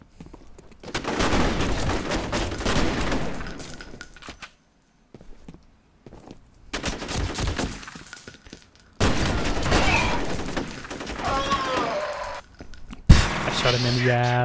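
Bursts of automatic gunfire from the video game F.E.A.R. erupt in several loud volleys separated by brief lulls, with impacts and clattering effects, while a player talks over parts of it.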